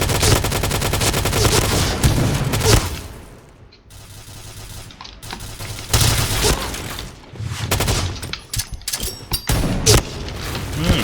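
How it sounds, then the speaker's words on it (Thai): Bursts of rapid automatic fire from an XM7 rifle in the video game Point Blank rattle loudly, stopping and starting several times, with short quieter gaps between volleys. "ไอ้ปืน XM7 TBA นี่เสียงแม่งเหมือนสกามากเลยนะ"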